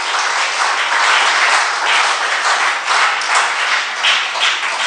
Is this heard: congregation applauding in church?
yes